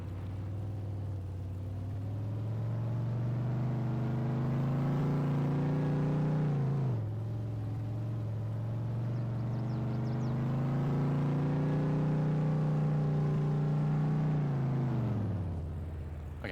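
A truck engine in Farming Simulator 22 drones steadily as the vehicle drives along while its back bounces around, the hum dipping briefly in pitch about halfway and again at the end.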